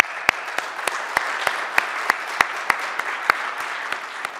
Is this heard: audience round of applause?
yes